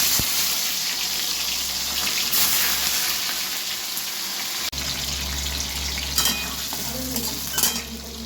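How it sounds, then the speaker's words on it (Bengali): Paneer pieces frying lightly in oil in a pan for a paneer curry, a steady close sizzle throughout with occasional scraping stirs and clinks, no voices. "পনির হালকা করে ভেজে নিয়েছি।"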